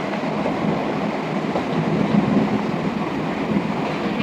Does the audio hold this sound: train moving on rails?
yes